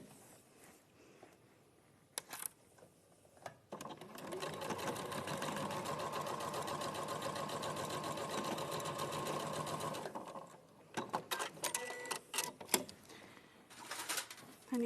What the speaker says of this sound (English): you're going to sew 1/4 inch down there. And you're going to reverse your stitch and do it on a standard stitch length.